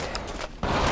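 Hunter fuel rod explosion from the Halo video game, a dense, continuous rumbling blast that swells and grows louder partway through, with no speech over it.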